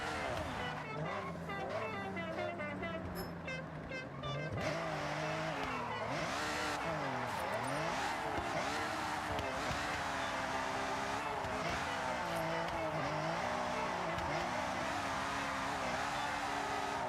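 A Nissan GT-R drifts in Forza Horizon on a touge mountain road, its engine wailing and warbling in pitch as it revs while tires squeal steadily and continuously underneath, with a player talking throughout.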